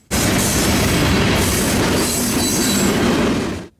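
Freight train cars, including hoppers, roll steadily past on the Chicago Line with a loud continuous rumble, wheel rattle and faint squeal, close by and sustained before cutting off.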